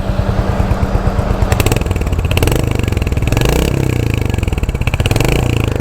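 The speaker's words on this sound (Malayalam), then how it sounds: "നമുക്ക് വണ്ടി ജസ്റ്റ് ഒന്ന് സ്റ്റാർട്ടാക്കി വണ്ടിയുടെ എക്സോസ്റ്റ് ഉണ്ടെന്നേക്കാം." A Royal Enfield Hunter 350 single-cylinder engine is started close by, then settles into a loud, steady, thumping exhaust idle with a clattery pulse throughout.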